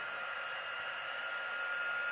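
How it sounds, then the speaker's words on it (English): A heat embossing tool blows hot air steadily at close range, a loud, even broadband whoosh holding for the whole stretch with no talk over it. "pardon me while I turn on the embossing tool"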